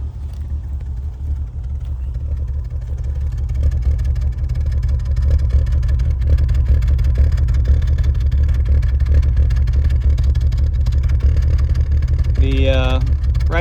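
A cheap BMW E36 that had a no-crank, no-start fault idles loudly up close, a continuous low rumble that swells as the revs rise, with a person speaking briefly near the end.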